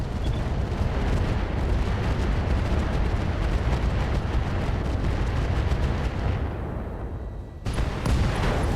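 Mech weapons in the RogueTech battle game fire AX rounds, a dense, loud barrage of booming shots and blasts that runs almost unbroken, thins briefly near the end, then resumes.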